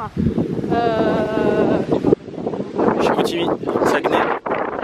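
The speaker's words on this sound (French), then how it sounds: "Oh, il y a du vent." Strong gusty wind buffets the microphone outdoors while walking through a small village in Saguenay, a loud continuous rumble that surges and dips, with a person talking over it.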